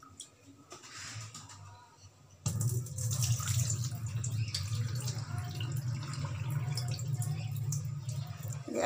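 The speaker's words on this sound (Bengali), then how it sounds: "এই জলটা ফেলে দেবো" Rinse water is poured off washed lentils (dal) in a home kitchen. After a brief quiet start, a steady, close, continuous splashing pour runs to the end.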